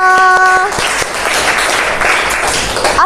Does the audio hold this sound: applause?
yes